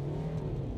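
A BMW 320 F30 engine revs hard while the car drifts on snow, a brief steady drone from start to finish with no voices over it.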